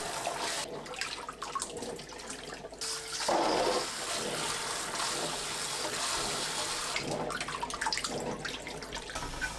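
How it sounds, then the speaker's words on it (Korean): Peeled garlic cloves are rinsed under running water, a steady soft splash and gush with a brief louder burst of flow, fairly quiet and without speech. "두세 번 깨끗하게 씻어줍니다"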